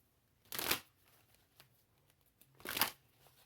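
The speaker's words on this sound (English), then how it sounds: "One more shuffle." Tarot cards shuffled by hand in two short, crisp riffling bursts separated by a quiet pause, close and fairly soft.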